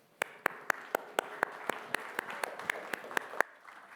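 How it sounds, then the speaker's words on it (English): A single person claps slowly and evenly, about fifteen sharp, close claps over faint crowd applause, before a robotics company's conference presentation. "So please give him a warm round of applause and enjoy the presentation."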